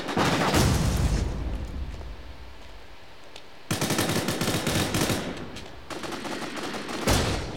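Automatic rifle fire in The War Z online shooter, including a G36 Elite, rattles in loud rapid bursts with a brief lull mid-way before sustained shooting resumes, dense and close throughout.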